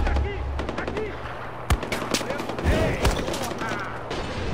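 Automatic gunfire crackles in the Far Cry 4 video game, rapid bursts and sharp shots layered over a steady engine drone and game effects, with a player's voice talking over it.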